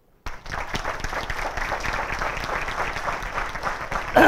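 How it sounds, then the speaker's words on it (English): Applause from an audience at an institute event breaks out and holds steady and dense for about four seconds, close and fairly loud. "can we have a round of applause for him?"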